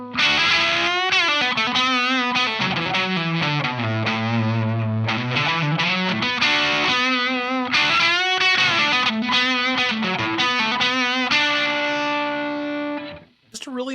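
Electric guitar solo played through a Benson germanium preamp pedal with the drive turned fully up. Sustained, singing distorted notes with bends and quick runs play continuously and loudly, then drop out briefly near the end.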